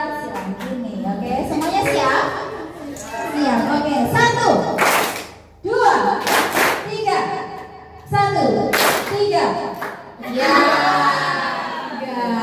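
Children clap together on a spoken count during a school camp activity, producing a few sharp group claps spaced between bursts of kids' voices and an adult calling numbers.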